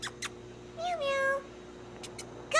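A cat meows in Metal Gear Solid V: The Phantom Pain, one clear, rising and falling meow at moderate volume over faint game ambience, with short clicks before and after.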